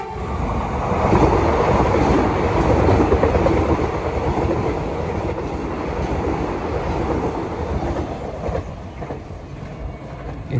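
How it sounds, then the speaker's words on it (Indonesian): A KRL commuter train running toward Yogyakarta passes close by near Prambanan, a loud sustained rumble of wheels and rail clatter that swells early and then slowly fades, with wind buffeting the microphone. "Ini dia KRL sudah melintas depan kita."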